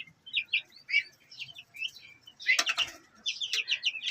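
Turkey and peacock chicks peep in quick, high, thin bursts, several small birds calling close by in overlapping clusters with brief pauses, some flapping between calls.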